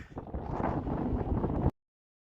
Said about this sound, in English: it's a pretty windy day here on top of the mesa